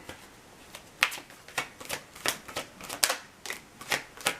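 Tarot cards are shuffled and drawn close up, a run of crisp papery flicks and slaps in an irregular rhythm, quiet and alone without talk.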